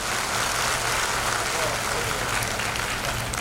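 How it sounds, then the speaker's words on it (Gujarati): Audience clapping at a Gujarati dayro folk gathering, a dense, loud burst of applause filling the whole short stretch. "જબરજસ્ત તાળી થઈ જાય"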